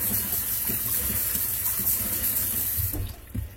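Warm water runs and splashes as beans are washed by hand in a sink or bowl, a steady close gush that eases off briefly near the end.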